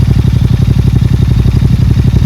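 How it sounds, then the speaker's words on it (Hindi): Royal Enfield GT650 running an SSP exhaust with the dB killer removed, idling loud and close in a deep, even, rapid thumping beat with no talking. "मैं आपको इसका आइडियल पे वॉइस सुनाता हूँ विदाउट डीबी। देख पा रहे हो गुर कर रहा है"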